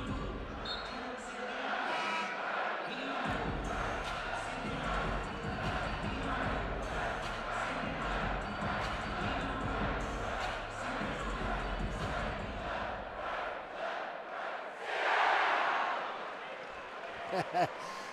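Basketball arena crowd noise rising into a loud cheer after a player fouls out, with ball bounces and sneaker sounds beneath, under an announcer's commentary.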